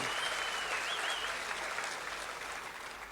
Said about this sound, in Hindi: तीनों बेटियों का ताली बजा के स्वागत करें